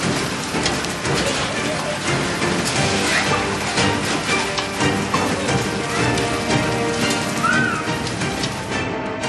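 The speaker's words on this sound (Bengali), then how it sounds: "মেঘলা আকাশ, এরই মাঝে বীরভূমের রামপুরহাটে শিলাবৃষ্টি।" Hail and heavy rain pound down steadily during a hailstorm under cloudy skies in Rampurhat, Birbhum, a dense, loud, continuous patter with no voices.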